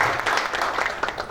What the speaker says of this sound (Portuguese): pedir uma salva de palmas aos nossos prefeitos, às nossas prefeitas e todo o time que está junto com eles nessa missão